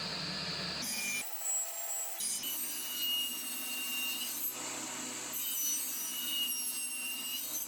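Table saw with blade raised to 60 mm cutting open slots into vertical wooden window bars for sliding windows, a steady loud whir with the pitch dipping and recovering as the blade bites, no talking.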